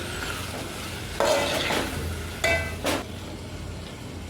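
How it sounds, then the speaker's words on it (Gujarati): Green corn kernels fry in oil with a soft steady sizzle, while a spoon stirs and scrapes against the pan in a few distinct close strokes. There is no talking. "હવે રહીને આપણે મકાઈ પણ નાખી દઈશું એને પણ આપણે તેલમાં ઘડી ચડવા દેવાની"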